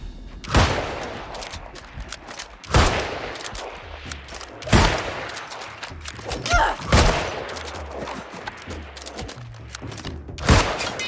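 Single musket shots in New World ring out at regular intervals of roughly two seconds, each a sharp loud crack with a short decay, separated by quieter reload gaps and low background activity.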